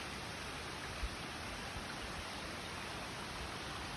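Floodwater from Hurricane Helene rushes through and piles up at a small culvert opening the day after the storm, a steady, loud, broadband roar that holds unbroken throughout with no voices.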